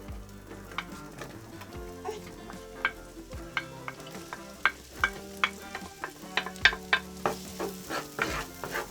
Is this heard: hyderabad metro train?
no